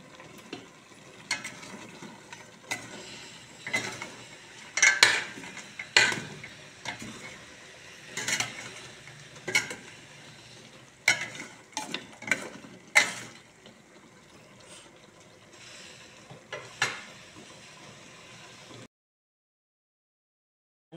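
A spoon stirs goat adobo in a pan, making irregular scraping and clattering knocks against the metal over a soft background sizzle. There are brief pauses between strokes before everything falls silent.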